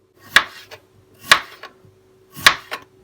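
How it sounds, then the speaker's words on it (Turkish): Potatoes being diced into small cubes with a knife on a cutting board: three sharp, separate chops, each with a softer follow-up tap, close and clear with no talk. "Patatesleri küp küp, küçük küçük dilimler halinde doğrayacağız."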